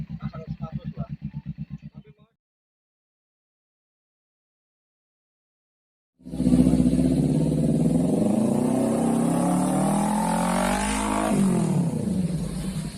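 Kawasaki Ninja 250 motorcycle fitted with an SC Project exhaust, a short throbbing idle that cuts to silence, then a loud, close sustained rev that rises and falls.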